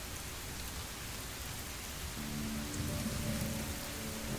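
Steady rain in the game Sheltered 2, a constant hiss of falling water with low rumbling beneath, joined later by faint tonal game sounds.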